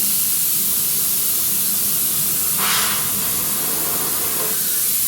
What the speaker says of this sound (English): So the compressor's working, which means you might be able to hear that. I have air coming out of the brush.